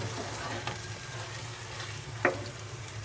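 Whisked yogurt stirred into sizzling chicken achari masala in a pan: a soft, steady background sizzle with a few scraping stirs, including one sharper clink of the spoon partway through.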